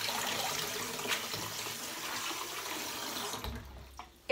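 Peeled corn kernels being washed in water for mondongo, a steady splashing and sloshing close by that runs continuously, then drops away near the end into quieter handling sounds.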